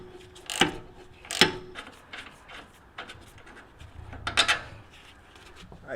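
Wrench work on the 21 mm track bar bolt of a Jeep Wrangler during a steering upgrade: a few sharp metallic ratcheting bursts close by, separated by quieter handling and rubbing noises.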